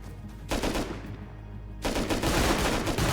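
AK rifle fire during a snowy base raid in Rust, loud sustained automatic bursts with a brief lull, then another dense volley, no talk.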